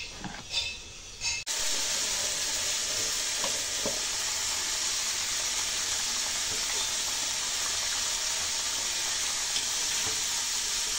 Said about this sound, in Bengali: তরকারিটা উতলিয়ে গেছে।